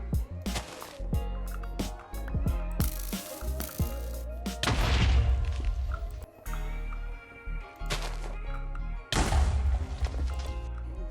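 Several creeper explosions in Minecraft, heavy booming blasts bursting in a loud irregular series with sharp pops and rumbling low end, some overlapping, with game sounds between them.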